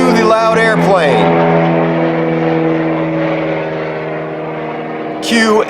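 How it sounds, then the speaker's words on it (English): A loud airplane roars steadily overhead with a droning, tonal engine hum that holds for several seconds, bracketed by brief louder bursts at the start and end. "cue the loud airplane"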